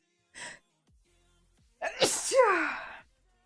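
A single person's loud, close sneeze, preceded by a short sharp inhale and followed by a trailing voiced exhale.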